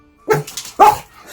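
Two loud, close barks from a dog, each a sharp burst followed by brief excited vocal trailing, spaced under a second apart in a home setting.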